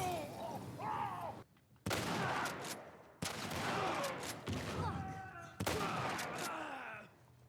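Bursts of gunfire and heavy blasts from shotgun and rifle enemies in The Last of Us on the hardest difficulty, several loud sharp reports in quick succession amid dense combat noise and muffled voices.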